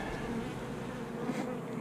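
Honeybees buzzing around an open hive, a soft steady hum of many insects close by, brief and unbroken, without talk.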